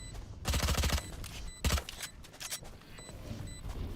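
Valorant gunfire: rapid bursts of close, loud automatic shots in quick clusters, with scattered single cracks and game ambience in between, no talk.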